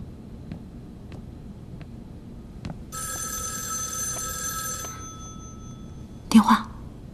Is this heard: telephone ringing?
yes